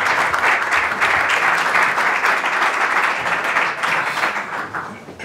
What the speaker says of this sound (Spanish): os pediría un aplauso también para ellos